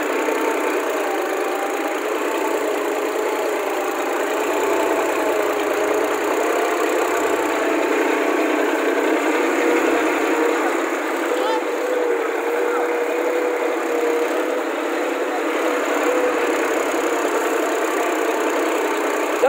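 A Solis Yanmar 4215 tractor, a 45 HP Japanese-technology machine, runs in a field with a steady, loud drone that holds constant with no pauses.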